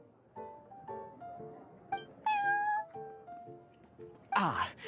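A cat in a café called the Cat's Tail meows repeatedly, a series of short, fairly faint mews followed by a rising, drawn-out cry and a louder, harsher yowl at the end.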